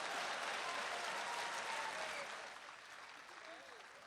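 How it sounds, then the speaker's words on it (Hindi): Audience applause at a poetry event in Dubai: a dense, sustained wash of many hands clapping, loud at first and easing slightly toward the end, with no voices over it. "और अब आपकी तालियां उठेंगी।"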